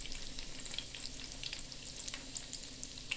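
Cooked rice and egg in a frying pan give off a steady, even sizzle of frying, with faint scraping now and then and no voices.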